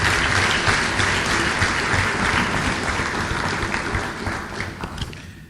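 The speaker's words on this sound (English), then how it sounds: "Let's give Cardinal another round of applause." Audience at an annual lecture giving a round of applause, dense steady clapping from a full room that fades slightly toward the end, with no talking.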